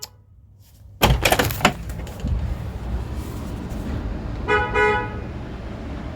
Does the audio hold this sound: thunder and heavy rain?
no